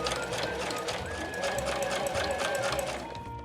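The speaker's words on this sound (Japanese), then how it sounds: "このままぐるーっと粗ミシンかけていきます。" A sewing machine runs a long basting stitch around the fabric edge of a small zippered phone pochette. Its close, steady, rapid whir hums without a break before slowing and easing off near the end.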